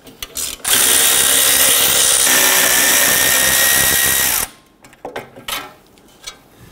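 A power tool spins off a 10mm heat shield bolt on a 2011-2021 Jeep Grand Cherokee 3.6L V6, one loud sustained whir of about four seconds followed by quieter clinks and ratchet handling sounds, close up, with no talking.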